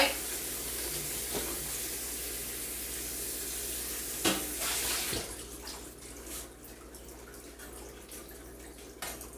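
Running tap water washes over the outside of a cooking pot in a kitchen sink, a steady rushing splash for about four seconds, then quieter trickles and drips with small knocks of the pot.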